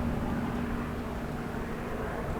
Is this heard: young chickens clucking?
no